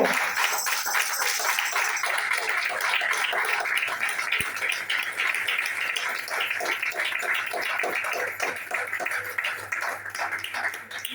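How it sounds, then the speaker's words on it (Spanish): A church congregation claps together during a sermon in a dense, sustained patter of many hands, steady and energetic throughout, with voices mixed in. "Si tú lo crees, dale fuerte las palmas a Cristo"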